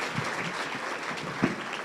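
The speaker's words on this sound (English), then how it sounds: "Round of applause for our communications team for putting together such a great event." Applause from an audience at a school district superintendent's State of the District address, a steady burst of clapping that sounds moderately distant and fairly faint.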